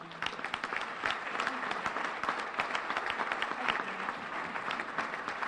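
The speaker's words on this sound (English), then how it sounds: "could you join me in a round of applause" An audience applauds at a billiards Hall of Fame ceremony, continuous crisp clapping from a roomful of hands that stays steady and moderately loud across the whole stretch, with no talking over it.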